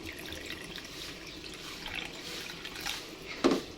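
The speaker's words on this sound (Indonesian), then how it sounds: "Ini airnya kurang ya teman-teman, jadi saya mau menambahkan lagi" Water poured into a pot of simmering chicken liver and gizzard in a home kitchen, a soft continuous trickle with a brief louder splash near the end.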